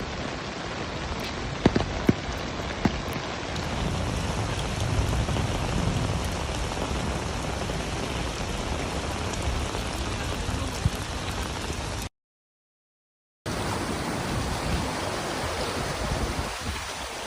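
Record heavy rain pours down in Chiba, Japan, a steady, dense roar of downpour hitting surfaces close by, unbroken apart from a brief cut of silence near the end.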